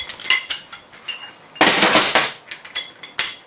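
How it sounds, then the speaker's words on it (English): A socket wrench breaks loose the top bearing cap bolts on a tub grinder jackshaft, making a series of sharp metallic clinks and clanks followed by a louder, longer grinding rattle, close up and with no talk. "we're going to break loose now the top bolts here on the bearing cap"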